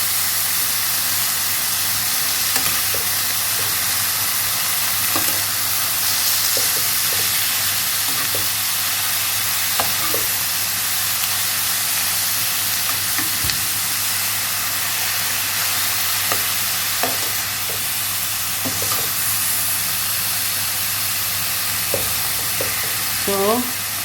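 One kilo of minced meat fries in a pan for spaghetti, giving a loud, steady sizzle with occasional scraping stirs throughout, close up and with no talking.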